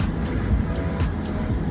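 A CNG auto-rickshaw engine drones steadily on a city street on an urban morning, a continuous low rumble with some brief higher hissy bursts, close and moderately loud.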